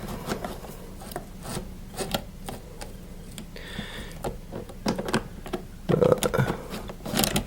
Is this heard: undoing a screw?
yes